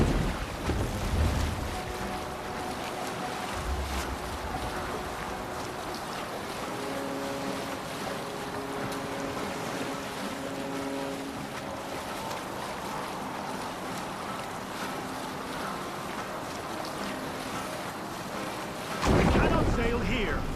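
Longship under sail on open sea in Assassin's Creed Valhalla: steady rushing water and wind wash for the whole stretch, with a faint low tonal hum in the middle and a louder splash surge near the end.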